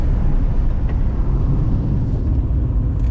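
A 40-year-old Mercedes 300D cruises at 45 mph with the windows rolled up. A steady low road and engine rumble fills the cabin, continuous and even, with no voices.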